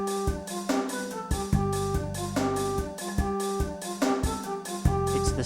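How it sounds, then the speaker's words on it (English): Strange tonal chime from the ghost of wisdom in the Tomba! 2 video game, steady sustained tones with rhythmic pulsing low notes repeating throughout, fairly loud and with no voices over it. "It's the sound of the ghost of wisdom."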